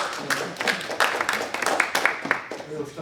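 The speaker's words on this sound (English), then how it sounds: "Now we stop clapping" Audience clapping at the close of a mathematics lecture on the fourteenth Hilbert problem, a steady patter of hands running for several seconds with people talking over it.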